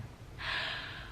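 A single deep breath drawn in through the nose, a soft rushing inhale that swells and holds for most of a second in a quiet room.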